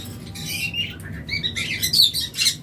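A pair of lovebirds offered for sale chirp in quick, high, bright bursts, close and fairly loud, filling the short stretch with scattered tweets over a faint low background hum.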